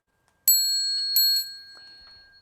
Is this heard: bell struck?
yes